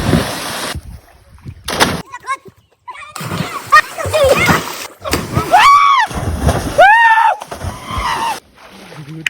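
People jump into dam water near Karad, Satara, making several heavy splashes and bursts of churning water, mixed with loud shouting and voices close by.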